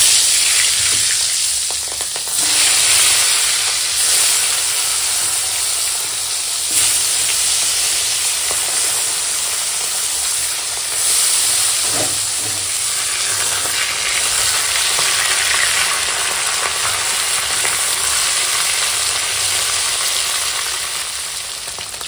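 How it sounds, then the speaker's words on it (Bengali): Fish rubbed with turmeric and salt fries in hot oil in a wok, making a loud, continuous crackling sizzle with bursts of spattering and occasional stirring, close up and without speech. "এবার দেখো কড়াতে তেল দিয়ে দিয়েছি, তেলও গরম হয়ে গেছে। এখন চলো মাছটা ভেজে নেব।"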